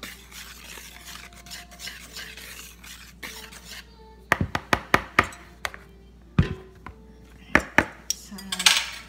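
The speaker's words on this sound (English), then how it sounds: "Mix all dry ingredients here." Dry ingredients for cheese dinner rolls (pandesal) stirred in a bowl: a steady scraping stir, then a run of sharp utensil clinks and knocks against the bowl rim, close and fairly loud, with no talking.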